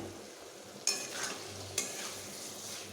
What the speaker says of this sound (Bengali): এবার সবগুলোকেই আমি একটু ভালোভাবে এভাবে কষিয়ে নেবো